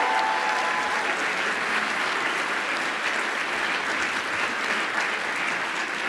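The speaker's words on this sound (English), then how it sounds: "How about a round of applause for all of our award recipients?" Sustained applause from a large audience at the 2017 USF Fast 56 awards ceremony honoring award recipients, steady and dense clapping throughout with no voices over it.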